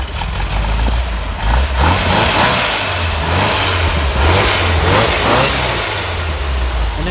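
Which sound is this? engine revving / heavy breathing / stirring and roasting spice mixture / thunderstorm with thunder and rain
engine revving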